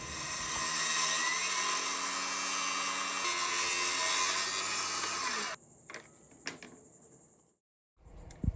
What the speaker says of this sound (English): So we're going to use a thickness planer and plane it all exact.